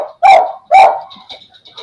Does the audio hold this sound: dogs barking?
yes